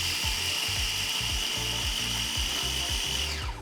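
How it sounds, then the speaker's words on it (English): A blender purees dry oats into fine oat flour for vegan cookies, with a loud, continuous motor whir under rhythmic grinding pulses as the oats churn, winding down at the very end. "So once your oats are in, we're gonna puree them."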